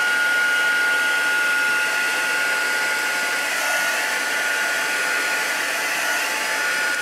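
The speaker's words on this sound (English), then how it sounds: "It's quite good to dry both the back and the front of the card with your heat tool" A heat tool dries a handmade card with a steady, loud, continuous blowing whir that holds at an even level throughout, with no voices.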